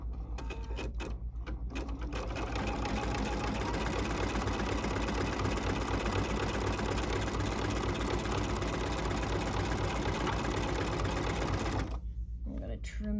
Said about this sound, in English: it's gone up to the final finish stitching, which is my satin going around the patch